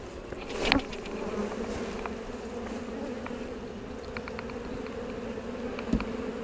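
Honey bees hum in a dense, steady drone around an open hive during a hive split, with a couple of brief knocks from handling the equipment.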